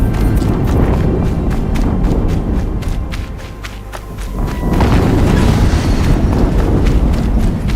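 A heavy, booming explosion rumbles in the video game Horizon Zero Dawn, loud and sustained, easing briefly in the middle before surging back with dense low rumble and scattered crackles.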